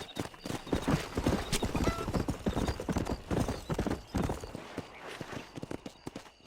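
Horse hooves gallop in Red Dead Redemption, a fast, uneven drumming of clip-clop beats close up and loud, with a faint neigh mixed in.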